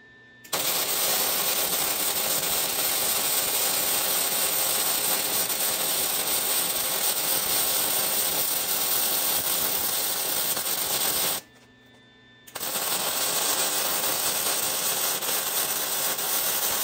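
Welding a bead on a Super Duty axle swap produces a loud, steady, crackling arc hiss that runs without a break, stops for about a second, then resumes and continues to the end, with no talking.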